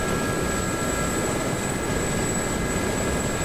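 A Gazelle helicopter in a PvP combat video game flies with a continuous, loud engine and rotor roar that holds steady throughout, with no voices.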